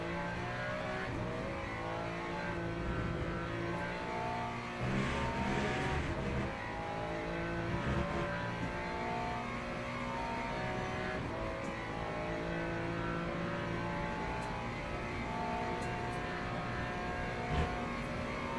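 A front-engined Lexus race car in the Le Mans Ultimate racing game drones on continuously, its engine note holding steady with slight shifts in pitch as it accelerates and eases off, with no voices.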